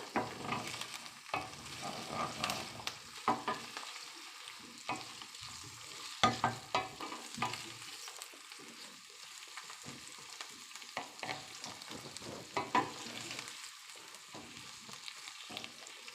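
Pumpkin pieces cooking in a pot for amaranth soup, stirred now and then, with a steady gentle sizzle and soft scraping strokes spread across the whole stretch, no voices.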